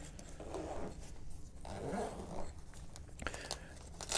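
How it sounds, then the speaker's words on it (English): Zippers being pulled open in several rasping strokes, close and fairly quiet, mixed with rustling of fabric. "You unsnap it, and then it unzips with these two zippers here."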